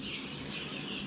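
Young chickens, two or three weeks old, cluck and chirp steadily in a brooder pen on a farm that keeps about 300 birds, a continuous close chorus with no voices over it.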